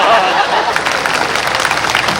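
Steady applause from an audience at a Hindi poetry gathering (kavi sammelan) in a railway stadium in Moradabad, a continuous dense wash of clapping throughout.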